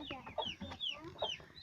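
Chickens clucking and murmuring inside a freshly cleaned coop as they settle toward the roost, a close, continuous run of overlapping clucks and short calls with no talk.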